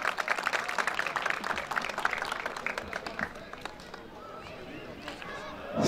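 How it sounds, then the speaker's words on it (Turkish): A crowd applauds at the opening of a sports club's artificial-turf pitch in Taşkınköy, with dense, steady clapping for about three seconds before it thins out and a voice takes over. "Daha güçlü alkış muhtarımıza."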